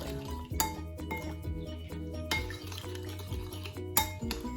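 A spoon stirs chili powder into a dip in a bowl, giving soft, repeated clinks and scrapes at a close, quiet level with a few sharper taps, and no one talking.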